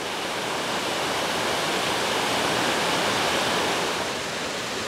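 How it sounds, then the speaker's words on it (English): A waterfall roars in the wilderness, a loud, unbroken broadband rush of falling water that holds steady from start to finish with no voices. "Is that a waterfall?"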